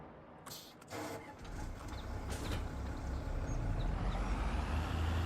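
A Fendt tractor engine in Farming Simulator 25 starting up with a brief crank and clatter, then settling into a steady, low diesel rumble that grows and holds.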